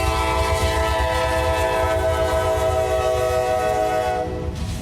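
Norfolk Southern freight train NS 151, a daily mixed freight, rumbles past loud and close with its horn sounding a sustained chord over the rolling rail noise, easing off at the end.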